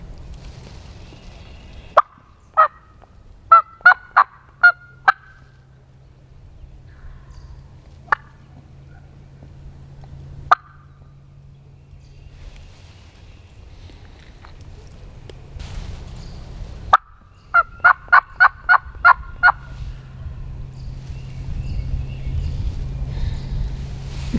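A wild turkey on public land in Alabama gobbles from a distance across rocky ground, giving a couple of rapid rattling gobble bursts separated by quiet stretches with a few single clucks, under steady wind noise.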